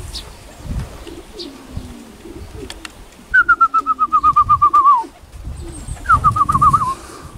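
Pigeons cooing and trilling close by, with two long rhythmic warbling calls over faint background rustling and shuffling, no talking.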